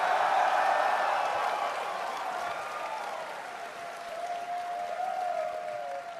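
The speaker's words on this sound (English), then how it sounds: "let's show a show of hands or applause." Audience applause at a live fan convention panel, a steady wash of clapping from a large crowd, loud and sustained before tapering slightly, with faint voices mixed in.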